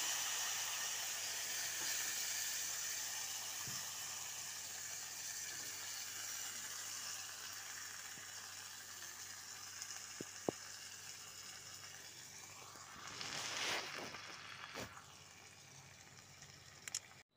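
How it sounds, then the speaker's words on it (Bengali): Cabbage sizzles quietly in a pan with tempering spices, cumin, turmeric and salt, a steady faint frying hiss with occasional soft clinks and a brief louder stir near the end. "এবারে আমি বাঁধাকপিগুলো দিয়ে দিচ্ছি"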